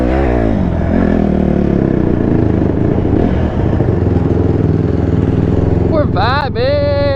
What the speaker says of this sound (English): Bro, let's see what the bike sounds like in here.